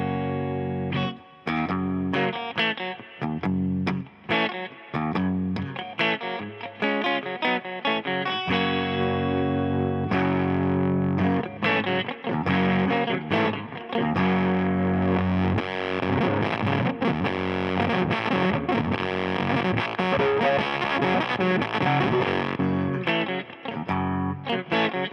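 Electric guitar played clean through a Ruthie Fuzz pedal with the guitar volume rolled down and bass turned up, a long continuous passage of strummed and picked chords, steady and moderately loud with no talking.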